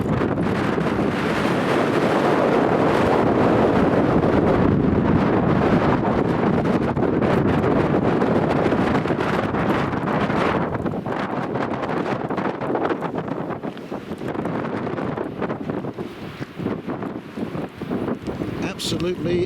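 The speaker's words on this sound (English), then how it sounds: "I'm just going to step out into the wind" Strong wind roars steadily across open plains near wind turbines, a loud, continuous buffeting rush with heavy gusts hitting the microphone, lasting throughout; a voice speaks faintly underneath.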